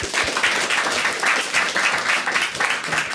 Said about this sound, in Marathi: ठीक आहे एकदा टाळ्या वाजवायच्या